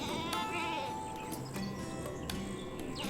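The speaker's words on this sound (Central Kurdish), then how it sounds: "بزن" A goat bleats faintly and a little distantly, its wavering calls carrying over a soft, steady outdoor background with no talking.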